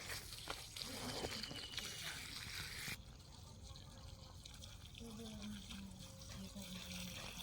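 Water flowing and gushing in a rural setting on a fishing outing, a steady rushing wash that changes character partway through, with people talking over it.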